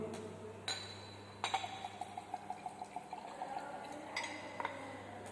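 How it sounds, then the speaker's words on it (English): Brass solution is transferred into a 250 ml glass beaker: faint glass clinks, then a quiet trickle of liquid pouring into glass with small rhythmic drips, and a few more light clinks of glassware. "Then again you are supposed to transfer this brass solution to the beaker, 250 ml beaker."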